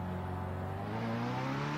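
Toyota Supra GT500 race car engine in Assetto Corsa, a steady droning note that rises gradually in pitch as the car pulls away, close and continuous.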